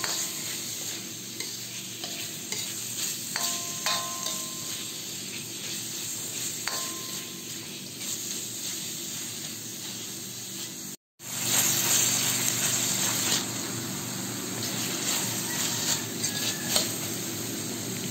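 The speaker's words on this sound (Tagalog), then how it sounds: "At haluin natin ito." A spoon stirs taro stalks and pork, seasoned with salt, in a sizzling pot, scraping and clinking against the metal over a constant loud frying hiss, with a short break partway through.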